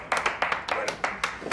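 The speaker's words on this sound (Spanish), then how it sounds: "Un aplauso para la saeta." A handful of people clap in a short, uneven burst of distinct, fairly close hand strikes at a casual gathering, with no talk over it.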